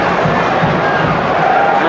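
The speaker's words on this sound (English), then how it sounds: "Crystal Palace supporters cheering the award of a free kick and the yellow card for Malik Chow" A large football crowd of Crystal Palace supporters roars loudly and continuously at a Premier League match against Newcastle United, a dense, sustained cheer filling the stadium.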